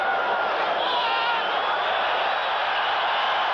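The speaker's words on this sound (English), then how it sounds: "the crowd reacting to the defensive work of the Seahawks" A football stadium crowd roars steadily at a 1983 Raiders–Seahawks game in Seattle, a dense, continuous wash of distant cheering filling the whole stretch.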